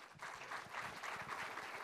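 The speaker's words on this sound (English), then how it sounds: "let us first give him a round of applause to get him going" Faint, distant applause from a forum audience welcoming a speaker: a soft, even patter of many hands that holds steady for about two seconds without any talk.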